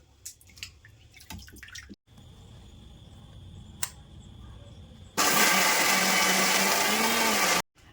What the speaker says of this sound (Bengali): এবার আমি পেস্ট করে নেব মিক্সিং জারে দিয়ে দিচ্ছি